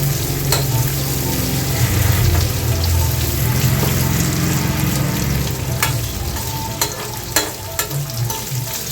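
Onions sautéing in a pan for a Tamil ridge gourd kootu dish, a steady loud sizzle and fry with stirring scrapes throughout and a few sharper clicks near the end, with no talking.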